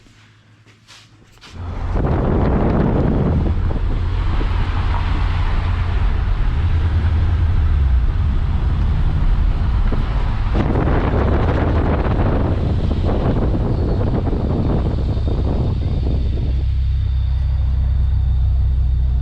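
Supercharged Toyota GT86 with a Jackson Racing supercharger fires up with a short burst, then holds a loud, steady low rumble with a couple of swelling revs, close to the microphone and with no talking.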